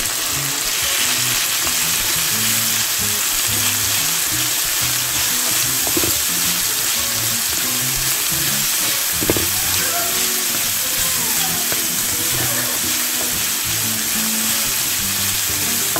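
Beef with ginger and garlic paste sizzles loudly in a pan for Szechuan beef, a steady close frying hiss broken by occasional scraping stirs.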